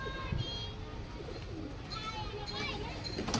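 Soft pigeon cooing and low throaty calls from several birds close by in a netted pigeon loft, with faint chirps and rustling in a busy enclosed space.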